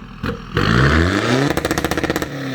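A Chevrolet pickup with a loud stage 3 exhaust revs hard, its engine note sweeping upward before breaking into a rapid burst of crackling, popping cut-off pulses, very close and loud.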